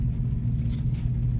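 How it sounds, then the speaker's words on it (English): A big crane truck's engine rumbles nearby, a steady, deep low drone with a soft hiss above it, constant and unbroken. "This guy is, this big crane truck's gonna block the turn lane"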